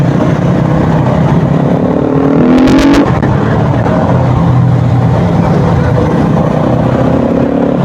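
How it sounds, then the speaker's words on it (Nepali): A 300cc motorbike ridden fast on the road, its engine roaring steadily up close with a brief high whine around the middle, loud and continuous without speech. "यो 300 पनि बबाल कुद्ने रहेछ यार बाइक त"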